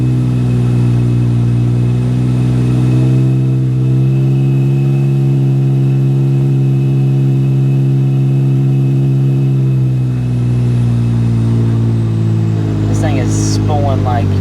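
A 4.1L turbocharged Porsche Cayman on a dyno holds a loud, steady engine drone with strong harmonic tones, then rises in pitch as revs climb and the turbo spools near the end.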